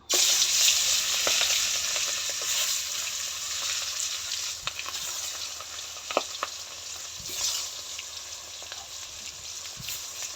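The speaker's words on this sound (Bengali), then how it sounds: "তেলটা গরম হয়ে গেছে, মাছগুলো ভাইজা নিব।" Fish fry in hot oil in a pan, a bright crackling sizzle that starts loud and settles into a steady hiss with scattered pops and a few stirring clinks.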